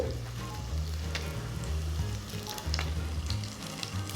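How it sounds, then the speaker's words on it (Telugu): Chana dal and urad dal fry in hot oil for a spicy radish chutney as coriander seeds go in, a dense, continuous sizzle close by with a few faint clinks and stirring sounds, no talking. "కొంచెం శనగపప్పు మినపప్పు వేగుతుండగా ఇప్పుడు ధనియాలు వేసుకుందాం"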